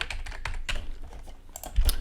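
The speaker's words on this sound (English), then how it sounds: "actually I could also type it" Fast typing on a computer keyboard in a quick, slightly uneven run of close, crisp key clicks, with one heavier thump near the end and no talk.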